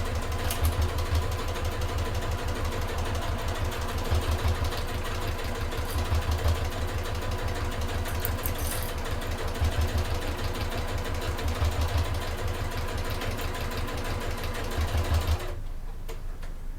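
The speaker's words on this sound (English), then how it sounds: "I'm lifting up my presser foot and pivoting round, and carry on sewing on the base as well." Sewing machine stitching along the base of a fold-over clutch bag, a close, continuous rapid needle rattle with a steady pulsing rhythm, stopping abruptly near the end.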